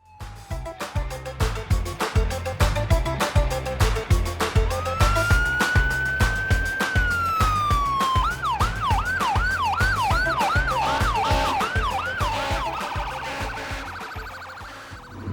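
An emergency vehicle siren, loud and close, wails in a steady rising and falling sweep, then switches to a rapid yelp for several seconds before easing back, over a heavy rhythmic musical beat, with no one talking.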